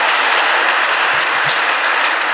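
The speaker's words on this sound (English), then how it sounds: "So one more round of applause." A talk audience gives dense, loud applause, steady clapping filling the whole stretch without voices.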